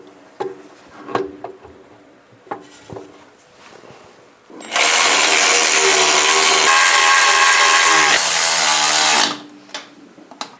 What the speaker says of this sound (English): so I got my grinder out